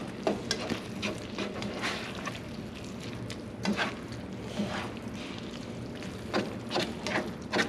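Shepherd's pie filling being stirred in a frying pan, with a scraping, sizzling texture and irregular louder scrapes as the spoon moves, steady and close, no talking.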